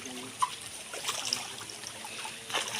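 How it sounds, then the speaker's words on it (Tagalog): Water flows in a mountain stream on a rainy day, a faint, continuous trickling and babbling with a few small splashes, heard alone without talking. "Ang ganda nitong yung tubig dito, guys."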